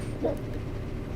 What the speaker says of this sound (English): Now kill this dog.